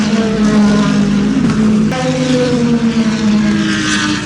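Loud LMP2 and GTD racing engines drone and whine up close at the Daytona 24-hour race, with pitch shifts as cars accelerate out of turn 4 one after another.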